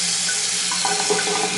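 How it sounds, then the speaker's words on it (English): Hot water runs steadily from a pedestal sink faucet in a vintage-tiled bathroom with strong water pressure, a continuous broadband rush with a little splashing, close and fairly loud, with no voices. "So that's just the hot water."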